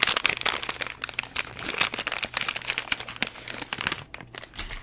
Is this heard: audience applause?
no